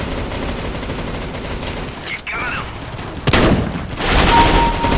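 Gunfire from a weapon in Counter-Strike: GO online play, rapid bursts of shots in a dense continuous barrage, loud and close, with a player talking over it.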